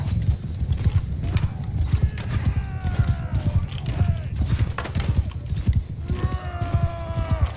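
Horse hooves clip-clopping in the medieval battle game Mount and Blade II: Bannerlord, a rapid steady galloping rhythm close by, with horses whinnying over it at a couple of moments.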